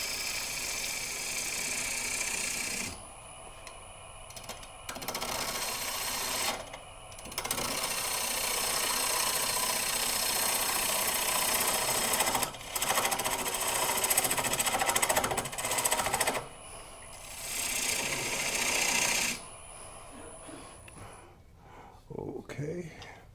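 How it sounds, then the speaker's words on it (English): A woodturning tool cuts dry wood on a lathe, giving a loud, continuous rasping scrape that breaks off and restarts several times in close, sustained passes, with a little talk mixed in. "you hear already the wood is much harder to cut because it's dry"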